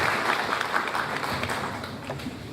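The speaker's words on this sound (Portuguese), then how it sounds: "Aplausos, por favor." An audience at an Angolan literary magazine launch applauds with dense, sustained clapping that holds steady throughout.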